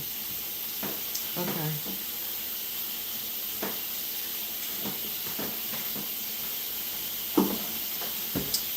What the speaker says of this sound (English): I guess it's letting the steam out.